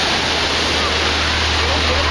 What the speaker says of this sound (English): Some big old waves rolling in.